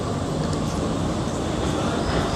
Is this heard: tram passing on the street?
yes